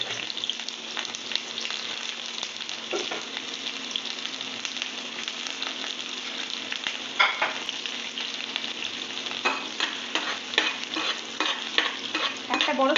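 Sliced onions sizzling steadily in hot oil in a pan for eggplant bharta, a constant crackling hiss with occasional sharper pops and stirring scrapes.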